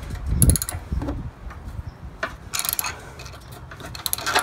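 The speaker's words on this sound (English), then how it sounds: "Just slide my wrench over my ratchet, give myself a little bit more leverage." A ratchet fitted with a wrench slid over it as an extender turns a bolt during a 1.75-inch spacer lift install, giving short bursts of clicking and metallic rattling separated by pauses.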